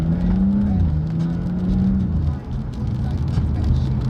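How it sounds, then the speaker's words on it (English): A tuned car idles steadily with its exhaust valves closed and no exhaust tips fitted, producing a subdued low drone with a faint whir, heard close while a person talks over it. "So his car is kind of quiet right now because he needs his exhaust tips on"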